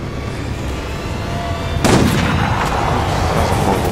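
A single loud rifle shot in the video game Resident Evil: Operation Raccoon City cracks out partway through over a low, steady game background, followed by a ringing decay.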